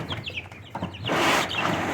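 Chickens cluck close by in a series of short, quick calls, followed by a louder burst of broad rustling or flapping noise.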